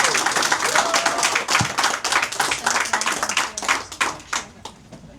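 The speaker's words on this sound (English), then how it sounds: "how about a cheer for our staff for doing the catering today?" A crowd at a college alumni reunion applauds, with dense, close clapping that swells and then thins out over several seconds, with faint voices mixed in.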